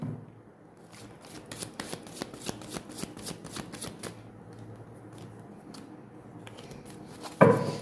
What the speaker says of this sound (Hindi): फिर भी एक शफल लेती हूँ